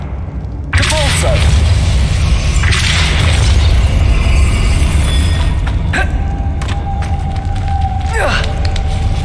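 Depulso spell being cast in Hogwarts Legacy: a loud whooshing burst that starts abruptly and surges twice, with cracking and shattering textures over a constant rumble, then a sustained tonal ring near the end.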